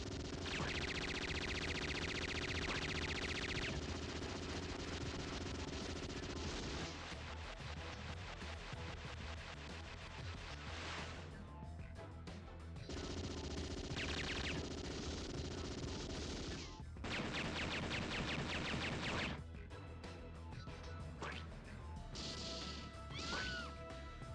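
Heavy machine gun fire in the arcade shooter Metal Slug 6, dense rapid bursts layered with game music and effects, running loud and continuous with short pauses between volleys.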